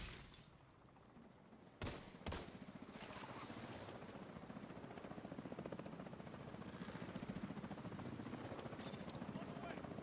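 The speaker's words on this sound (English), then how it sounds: "Enemy helicopter approaching." Enemy helicopter in a video game, approaching with a steady, fast rotor chop that grows slightly louder, and a couple of sharp bangs near the start.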